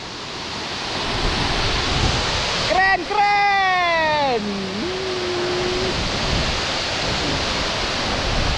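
A waterfall on Alor in East Nusa Tenggara, running clear in the dry season, roars steadily up close, with its spray-laden rush continuing under a man's brief speech.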